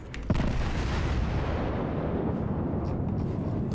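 Main gun shells from a battle cruiser fire in World of Warships: a sharp crack opens a deep, sustained low rumble of heavy artillery. The rumble stays loud and steady throughout, with no talking.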